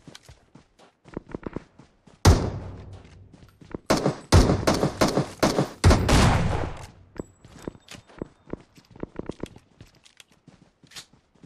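Rapid volleys of Winchester rifle gunshots ring out in a shooting video game, with dense bursts of gunfire mid-clip flanked by scattered footsteps and lighter shots before and after.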